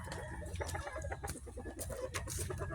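Chickens cluck busily in a rapid, overlapping chatter, fairly faint and close, with a farmyard murmur underneath.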